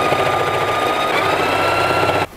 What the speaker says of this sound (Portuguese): Agora você leva lá na máquina e passa uma costura reta só pra fechar isso aqui tudo